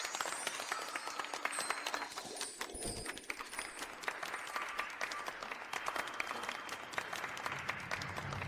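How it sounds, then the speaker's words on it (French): Wedding guests applaud as the groom is invited to kiss the bride, a fairly faint, continuous patter of many hands clapping throughout. "Et maintenant, avec nos plus chaleureux applaudissements,"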